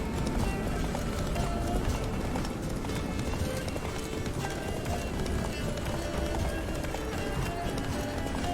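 Horse hooves gallop in a steady rapid rhythm in The Witcher 3: Blood and Wine, loud and continuous under a dense game soundscape.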